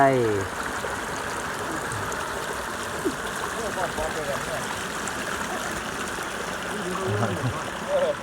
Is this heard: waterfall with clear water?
yes